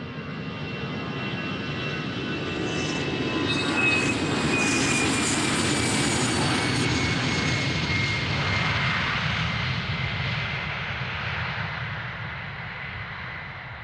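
Airliners depart back to back from runway 36L at Amsterdam Schiphol Airport, heard as a loud, sustained jet engine roar that swells to a peak and then slowly recedes into the distance, with no talking.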